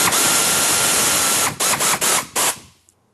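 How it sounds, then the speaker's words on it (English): A 1/4 inch air ratchet with a 10mm socket running header bolts in on an LS1 engine swap into a 240SX, a loud continuous pneumatic whir followed by several short bursts before it stops. "I'm going to bring the header bolts in loosely with a 1/4 inch air ratchet and a 10mm socket."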